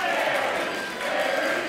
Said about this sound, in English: The crowd behind Gary Williams here.